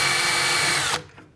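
A power drill whirs steadily as it bores a screw hole for a Blum cabinet hinge on a kitchen sink door, then cuts off abruptly and winds down, close and loud.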